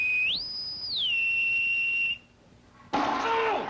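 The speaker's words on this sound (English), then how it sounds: "At the sound of the bosun's whistle," A shrill bosun's whistle sounds for a shipboard lifeboat drill, rising to a higher held pitch then falling back to a long steady note before stopping, followed by a burst of noisy commotion.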